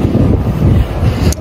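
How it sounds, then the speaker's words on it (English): Strong wind batters the microphone outdoors in a loud, continuous low rumble with gusty fluctuations and no voices. "it's a bit windy"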